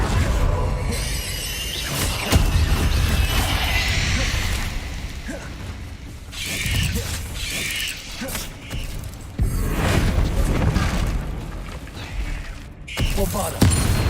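Incendio and Confringo fire spells in the Hogwarts Legacy video game burst out as loud whooshing flares and shattering crashes in several surges, with short lulls between the blasts.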